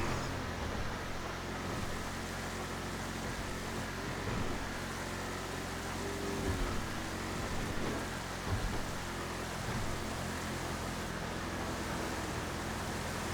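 Steady rain falls during a wet race up Mount Chiliad in GTA 5, a dense even hiss with faint low rumbles beneath it and no voices.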